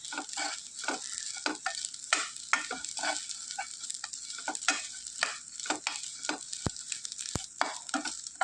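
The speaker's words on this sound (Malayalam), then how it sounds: "ഇപ്പോൾ ഫ്രൈ ആയി വരാൻ തുടങ്ങിയിട്ടുണ്ട്" Dried prawns fry in a pan for a mango pickle, with a steady hiss throughout and repeated scraping and clinking strokes as they are stirred, plus two sharp metallic taps near the end; no voices.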